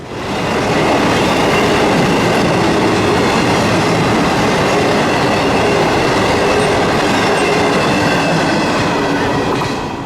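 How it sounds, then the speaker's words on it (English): A long freight train rolls through Folkston, Georgia: a loud, continuous rumble of wheels and cars that holds steady for the whole stretch, with faint rhythmic clatter and no voices. "It's simply incredible to watch all that freight parade through town."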